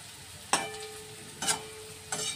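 Spices sautéing in oil for Bengali Ganga-Yamuna of Ol (elephant foot yam), with three sharp stirring scrapes against the pan over a low steady sizzle.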